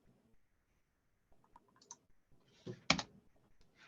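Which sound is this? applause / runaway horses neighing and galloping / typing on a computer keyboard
typing on a computer keyboard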